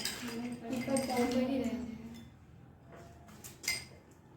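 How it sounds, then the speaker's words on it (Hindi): Ice cubes dropped into a glass of water give a few short, bright clinks close by, following a stretch of talk. "लेकिन हम इसमें जैसे ही बर्फ डालेंगे क्या होगा"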